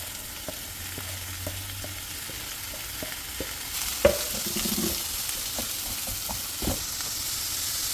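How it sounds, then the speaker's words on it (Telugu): Onions frying in hot oil in a pan, a continuous close sizzle with occasional stirring clicks and a louder burst of hiss midway. "ఇప్పుడు మనకి కొంచెం ఆయిల్ వేడైన తర్వాత ఆనియన్స్ అన్నీ ఇందులో వేసి మంచిగా ఫ్రై చేసుకోవాలి."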